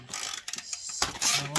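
Ratchet clicking in short bursts while snugging bolts on an Arrow titanium 3/4 cat-delete exhaust on a 2021 Kawasaki ZX-10R, close and moderately loud with brief pauses between strokes.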